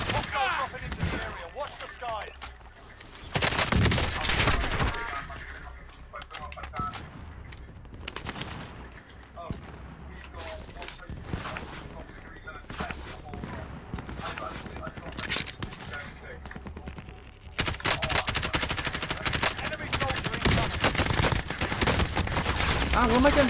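Gunfire in the video game Call of Duty Warzone: repeated sharp shots and bursts over a battle soundscape, some loud and close, while a player talks throughout.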